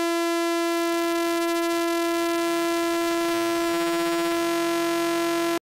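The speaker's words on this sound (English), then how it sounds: "as I bring down the frequency, more and more of those artifacts from aliasing will bounce back." Synthesized sawtooth wave held as a loud, buzzy, steady tone, its frequency sweeping downward while aliasing artifacts produce shifting inharmonic tones, ending abruptly.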